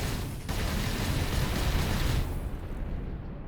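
Massed cannons firing during space combat in the game Avorion: a loud, broad roaring blast of continuous booming explosions that rumbles on, then thins and fades toward the end.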